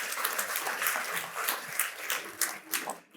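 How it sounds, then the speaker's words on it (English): A conference audience at a health benefits summit gives moderate applause, clapping that is fairly sparse and uneven, thinning into scattered claps before stopping abruptly. "Let's give them another round of applause for putting this on."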